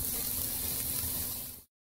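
Vegetables sizzle in a hot pan for Chinese-style fried rice, a steady close crackling hiss that runs without talk and then cuts off to silence near the end.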